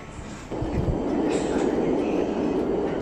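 A train in Milan rumbles along in a steady, fairly loud rolling roar with a faint rattle of the carriage, heard from inside and picking up slightly after a quieter start, with no talking.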